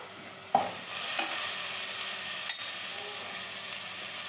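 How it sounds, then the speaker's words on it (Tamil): Chopped vegetables fry in a pan and are stirred: a continuous close sizzle, broken by a few brief scraping clatters of the spoon, with no one talking. "இப்போது வெட்டி வச்ச காய்கறியை சேர்த்துக்கலாம்."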